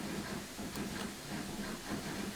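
In the Transport Fever 2 video game, a steam locomotive vents steam in a steady, loud hiss with faint rhythmic chuffing beneath it.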